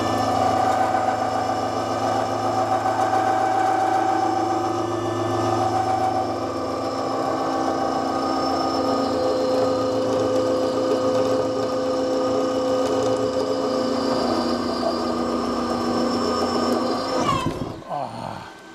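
A metalworking machine steadily cuts material from a metal part for a rod bender, a continuous close mechanical drone with tonal whine that holds for most of the clip before winding down with a clatter at the end.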